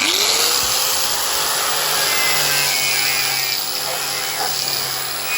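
Wire wheel on an angle grinder scrubbing an aluminium tinny boat hull, a loud continuous high-pitched whirring grind with a steady tone running throughout, close and unbroken.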